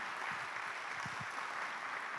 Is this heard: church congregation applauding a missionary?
yes